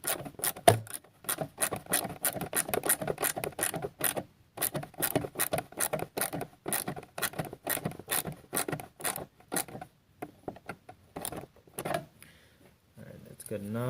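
Wrench ratcheting down a 10mm bolt on a Nissan Altima during garage work on tie rods and the overflow tank, a steady run of quick, close clicks in short bursts, pausing briefly, with a light rattle near the end.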